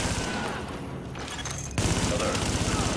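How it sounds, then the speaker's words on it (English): Bursts of gunfire in the video game The Division, loud rapid shots layered under a constant game soundscape, with a sharp louder volley partway through and radio-style voices talking over it. "Reporting gunfire in the station above us."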